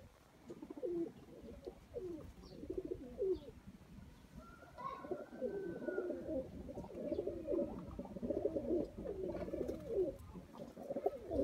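Pigeons coo repeatedly in soft, throaty rolling phrases, several birds overlapping at close range, with a brief higher whistle-like sound partway through.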